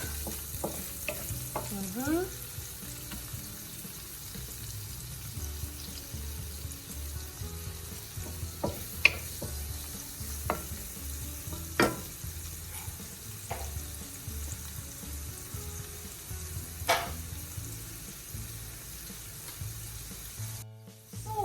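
Ingredients sautéing in a pan for pancit sotanghon, starting with onions and pork: a steady, moderate sizzle with scattered clinks and scrapes from stirring, without talk.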